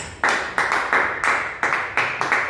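A church congregation claps in a steady rhythmic beat, several sharp group claps per second ringing out close and loud with no talk over them.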